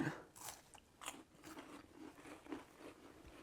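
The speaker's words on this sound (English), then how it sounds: "it'll give it that like crunchy bite that Thin Mints have" Crunchy bites into homemade Thin Mint-style chocolate cookies, several sharp crisp crunches spread across a few seconds, close and fairly quiet.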